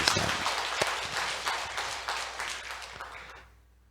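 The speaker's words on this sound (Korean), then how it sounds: "우리 하나님 영광의 박수 한번 드리겠습니다" Congregation applause at a Sunday church service rings out full and dense in a large room, holding steady for about three seconds before tapering off into quiet.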